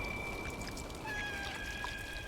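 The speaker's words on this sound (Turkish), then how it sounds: "Ama nasıl miyavlıyor bak." A cat meows in the Stray video game, a few thin tonal calls over steady game background ambience, fairly faint and alone.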